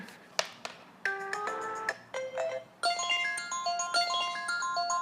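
Melodic ringtone from an iPhone 6S after a water submersion test, its speaker partly waterlogged, playing a series of bright repeated tonal phrases with short gaps, loud and close.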